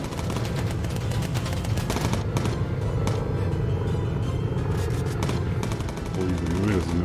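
Dense, rumbling gunfire and flak from the bomber video game Bomber Crew, rapid continuous bursts over a low engine drone, loud and unbroken throughout, with someone talking over it.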